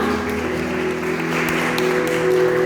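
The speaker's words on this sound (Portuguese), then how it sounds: "Quantos eles aplaudem, aplaudem o nome do Senhor" A church congregation claps steadily through a service, the applause blending with sustained musical tones at a fairly even level.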